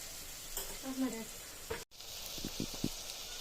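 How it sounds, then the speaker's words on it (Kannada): Food fries lightly in oil in a pan, a faint, soft sizzle running under a woman's quiet speech, with a brief dropout midway and a few soft clinks near the end. "ಸೊ ಇದು ಲೈಟಾಗಿ ಫ್ರೈ ಆಗಲಿ ಹಾಕೊಂಡು"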